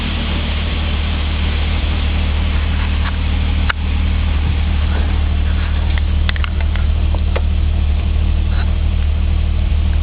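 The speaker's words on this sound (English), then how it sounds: "Running at almost 60 pounds of oil pressure at an idle of 800 RPMs." A 1999 car engine idling at about 800 RPM after an accident, a steady low rumble with a constant even tone and occasional faint ticks, close and loud, with no talking.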